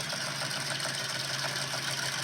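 Ford car engine idling, a steady dense mechanical rumble with even rapid pulsing, continuous and close for the whole stretch.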